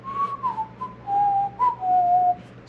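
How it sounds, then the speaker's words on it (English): Someone whistles a short wandering tune of held and sliding notes, clear and fairly close, with a low steady hum underneath and no talking. "whistling"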